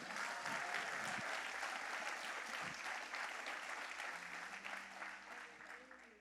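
A church congregation applauds during a sermon, a long dense wash of clapping from a large crowd that fades slightly toward the end, with a faint voice and music tone underneath.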